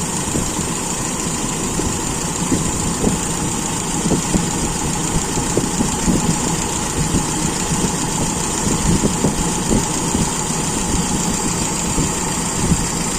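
A Toyota Kijang engine idles steadily with an Aisan carburetor during adjustment, a continuous mid-pitched rumble with light irregular knocks and vibration, close and loud, with no talking.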